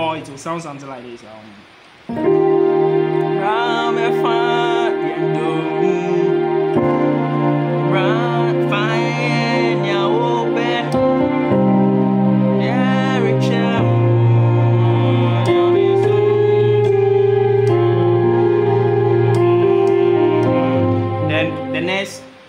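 F-key keyboard worship breakdown in a Ghanaian style, playing sustained chords that shift through a progression, with a voice singing or humming along over the held harmonies.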